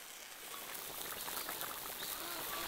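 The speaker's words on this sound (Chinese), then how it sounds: "下锅与鸭肉煮30分钟" Konjac tofu simmering with duck, purple ginger and pickled chilies in a pot of water, giving a steady, dense bubbling and hissing boil that stays even throughout.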